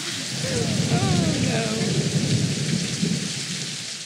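A thunderstorm with steady heavy rain and a low rolling rumble of thunder, with a few high chirps above the downpour.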